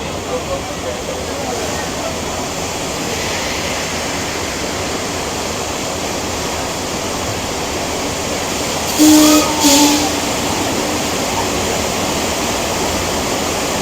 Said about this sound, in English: just survived the earthquake, the big one